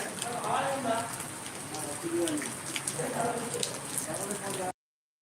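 Continuous hiss of rain falling on a surface in the Konkan, steady and fairly close, with faint voices underneath before an abrupt cutoff.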